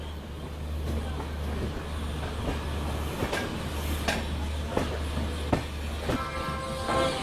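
A train arrives at Agra Cantt railway station with a steady, loud rolling rumble and a rhythmic clack of wheels over rail joints, plus a brief metallic squeal near the end.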